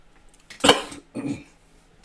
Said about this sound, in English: still getting over a cough here